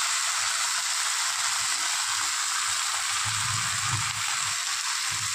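Soya chunks fry in a pan with a steady, loud hiss and crackle of hot oil, an even sizzle throughout with a faint low clatter of stirring near the end.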